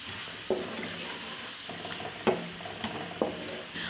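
Whole spices, white cumin, a star anise flower and dried plums, frying in a pot over low flame for chana pulao, with sharp sizzling bursts and stirring scrapes at a steady close level, no voices.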